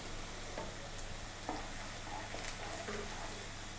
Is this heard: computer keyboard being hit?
no